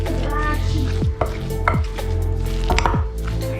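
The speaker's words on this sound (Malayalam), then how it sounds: "ഇനി ഒന്നുകൂടെ നന്നായിട്ട് യോജിപ്പിച്ചെടുക്കാം" Masala vada batter made with cornflour is mixed by hand in a bowl, a continuous thick squelching and stirring with a few sharp clacks of the utensil against the bowl, close and fairly loud with no talk.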